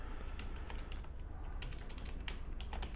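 Typing on a computer keyboard during a programming tutorial, a steady run of light clicky keystrokes spread across about three seconds over a low background hum, with no voices.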